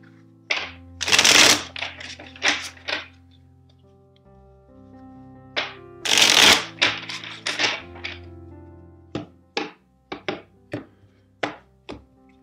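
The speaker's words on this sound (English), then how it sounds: "Two more shuffles." Riffle shuffles of a tarot card deck, two loud bursts of riffling followed by a scatter of sharp taps and knocks as the deck is squared, close and clear against a quiet background.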